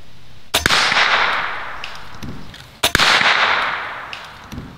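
An air rifle fires a .22 long rifle bullet, shot out of a revolver cylinder, into soda: two loud, sharp cracks a couple of seconds apart, each trailing off in a bright, hissing decay.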